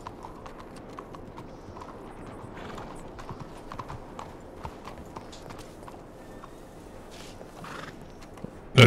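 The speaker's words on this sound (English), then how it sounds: "oh, there's my horse" A horse in the Red Dead Redemption video game clops along with steady hoofbeats and whinnies, the hooves close and continuous, ending in a sudden loud burst.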